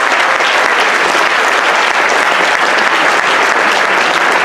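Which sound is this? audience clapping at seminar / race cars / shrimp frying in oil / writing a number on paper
audience clapping at seminar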